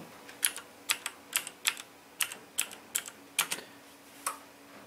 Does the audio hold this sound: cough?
no